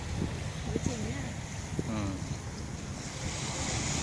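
Sea waves wash steadily onto a beach at Phuket, a broad constant surf wash with some wind buffeting on the microphone, while people talk and laugh briefly over it.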